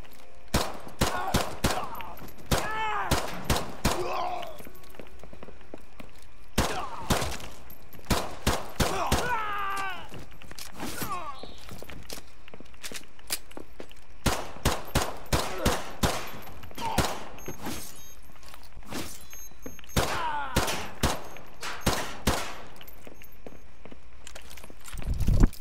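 Repeated bursts of rapid gunfire from Call of Duty: Modern Warfare 2 Campaign Remastered, set in a museum level, crackle in short clusters separated by brief pauses, loud and close throughout.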